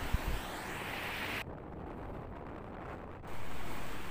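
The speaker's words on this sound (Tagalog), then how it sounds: "sobrang lalaki ng alon at pumuputi dahil po sa sobrang lakas po ng hangin na naranasan natin sa ngayon" Big whitecapped ocean waves whipped by strong amihan wind off a rocky island shore, a continuous roar of surf mixed with heavy wind buffeting the microphone.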